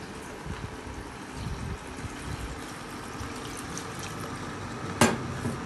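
Water pours steadily into a cooking pot for boiling lamb, a soft continuous splashing stream close by, ending with a brief sharp clank.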